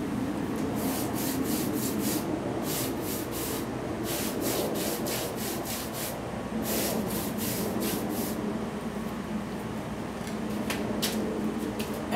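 A slightly wet paintbrush brushing thin velvet finish paint onto furniture edges, producing close, loud repeated scratchy bristle strokes in an uneven rhythm with brief pauses over the whole stretch.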